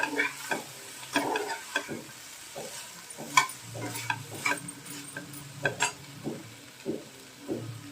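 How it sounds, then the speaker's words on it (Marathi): Peas sizzle in oil in a pan while a spoon stirs them in repeated scraping strokes, close up and fairly quiet, with a soft frying hiss underneath. "आता हे वाटाणे घातले, एकदा फ्राय होऊ द्या चांगलं."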